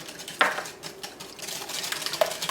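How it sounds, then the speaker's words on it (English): Whisk beating eggs into chocolate cake batter in a bowl, a busy run of soft scraping and light metallic clicks with a couple of sharper taps, close and steady throughout. "I want to keep whisking, as I do not want to cook my eggs."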